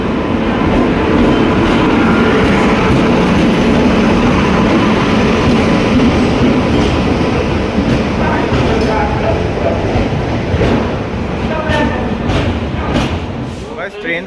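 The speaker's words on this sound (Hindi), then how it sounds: "ट्रेन तो आ गई हम लोग की" A passenger train arrives at a station on the Varanasi to Deoghar route, its loud continuous rumble and rolling clatter filling the clip up close, with voices mixed in before it fades slightly at the end.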